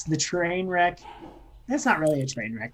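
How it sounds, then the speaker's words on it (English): Dogs bark and yip in the background, mixed under steady conversation between people throughout, with the barking partly masked by the voices. "you can probably hear the dogs in the background"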